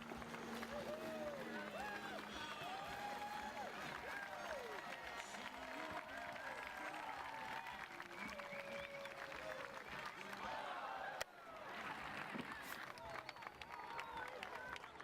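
A crowd at a build-bail-and-sail boat race event applauds, a steady wash of distant clapping and cheering mixed with hubbub and voices talking, faint and continuous throughout.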